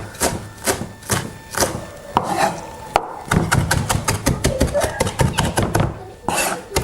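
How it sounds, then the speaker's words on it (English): A knife chops pumpkin and corn for a harvest dish, giving quick, rhythmic taps on a cutting board that start uneven, then become a fast steady run, with people talking at moments. "So chop it up nice and fine."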